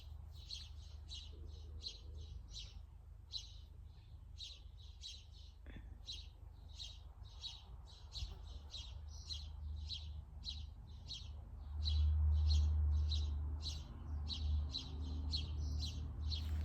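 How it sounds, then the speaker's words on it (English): Birds chirp repeatedly in quick, regular bursts outdoors, a steady twittering song over a low rumble of background noise that swells briefly. "I was listening to the birds instead."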